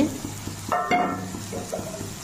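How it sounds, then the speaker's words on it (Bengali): Fried eggplant pieces tipped into spinach cooking in a pan sizzle softly while a spoon stirs and scrapes, with a couple of sharper clattering pushes against the metal. "এখন দিয়ে দিচ্ছি ভেজে রাখা বেগুনগুলো পালং শাকের মধ্যে।"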